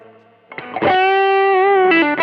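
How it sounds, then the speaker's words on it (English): Electric guitar played through an Ethos Clean Fusion Deluxe pedal with the preamp bypass engaged, giving a few sustained, slightly driven notes and a held chord that rings out loud and clear with no talk. "Now let's see what the preamp bypass does."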